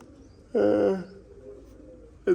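A pigeon gives a single close, clear coo at a loft where the birds are being kept indoors, followed by a brief second call and quiet surroundings.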